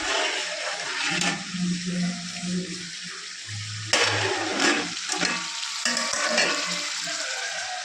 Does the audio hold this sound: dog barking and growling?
no